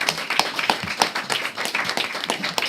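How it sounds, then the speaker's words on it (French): Scattered audience clapping at a student arts-week radio event, with distinct individual claps in an uneven rhythm, fairly close and brief. "On peut les applaudir."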